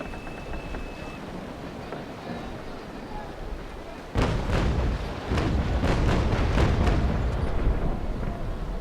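Ship cannons fire in the naval combat game Naval Action: after a quiet stretch, a loud close volley breaks out with several heavy booming shots in quick succession, followed by rumbling decay.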